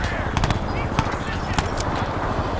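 Weapon fire in Crysis 2, a gun that leaves a lot of smoke behind, with several sharp reports cracking over a dense, loud rumble of battle noise and faint voices.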